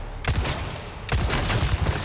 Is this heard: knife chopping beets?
no